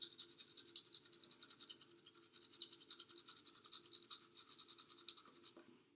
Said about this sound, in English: you want to make sure you're sitting it up, brushing softly. Not a really hard scrub.